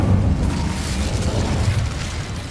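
Incendio fire spell cast in Hogwarts Legacy, a loud, dense roaring burst of flame that holds steady for a couple of seconds.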